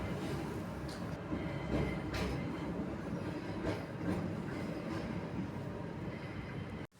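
A continuous heavy rumble with rattling clatter rolls by for several seconds as trams pass outside a window in Lviv, then cuts off abruptly at the end.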